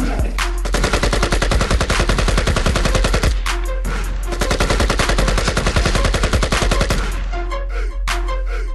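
Continuous rapid gunfire rattles in dense bursts for most of the clip, loud and close, breaking into a few scattered shots near the end.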